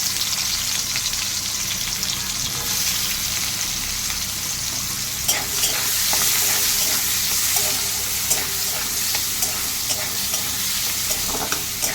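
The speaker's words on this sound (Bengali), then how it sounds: "এবার আমি ওই কড়াইতেই তেল গরম করছি। এবার আমি পেঁয়াজ দিয়ে দিই।" Onions sizzle steadily in hot oil in a wok-like kadai, a constant close frying hiss broken by occasional scraping stir clicks from a spatula, with no talking.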